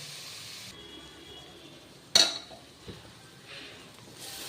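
Soya chunks (meal maker) sautéing in oil for a pulao, a steady close sizzle with a sharp clink of a utensil against the pan midway and a few softer stirring knocks.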